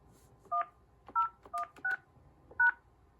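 Five short touch-tone beeps from the keypad of a Yealink T46S IP phone, spaced unevenly as an ID is keyed in, clear and close over a faint background hum.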